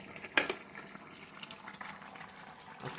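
Vegetables and jackfruit seeds frying in a pan, a quiet, steady sizzle and bubbling with a few sharper pops and crackles scattered through it, heard up close with no talking.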